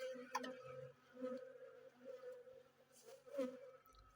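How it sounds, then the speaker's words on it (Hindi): Honeybees streaming out of an old hive box fill the air with a steady, close buzzing hum that swells and fades as insects pass near, with no one speaking. "आप देख सकते हैं यहाँ पर कैसे मधुमक्खियाँ बाहर भाग रही है।"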